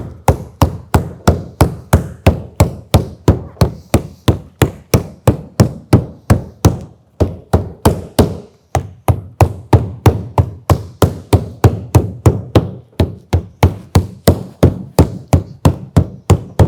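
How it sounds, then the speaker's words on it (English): A rubber mallet strikes lead drain flashing again and again, shaping the lead around a drain outlet. The blows are loud and close, with a steady, even rhythm of about two to three strikes per second and a brief pause in the middle. "we preform the lead with the rubber mallet"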